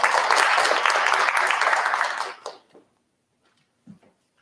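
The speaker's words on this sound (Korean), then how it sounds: "큰 박수 부탁드립니다." A seminar audience at an energy forum on the hydrogen economy applauds warmly for about two seconds, then the clapping fades quickly into near silence with a couple of faint stray sounds.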